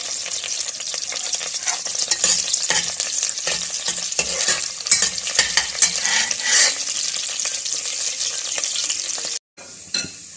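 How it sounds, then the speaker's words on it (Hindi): Chicken pieces fry and sizzle in a pan with ginger garlic paste for chicken Manchurian, a loud, close crackle broken by scraping stirs, then a brief drop and a return. "अब मैं इसमें डाल रही हूँ चिकन।"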